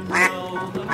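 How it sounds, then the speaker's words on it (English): A duck quacks twice, close and fairly loud, two short nasal calls separated by a brief gap, alone without talk. "Duck."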